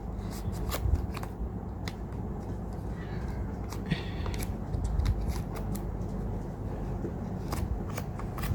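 Scissors snip and rustle through a crocheted lace top, cutting across from the top edge in a string of close, crisp crunching cuts with fabric handling between them.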